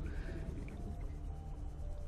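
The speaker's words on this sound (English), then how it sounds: "You are riding a glow whale" A glow whale from the video game Subnautica Below Zero gives a low, drawn-out moaning call underwater, steady and moderately quiet, with no talking.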